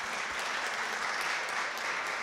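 Audience applause at a choir concert in a church nave, a steady dense wash of many hands clapping, moderately distant, with no voices.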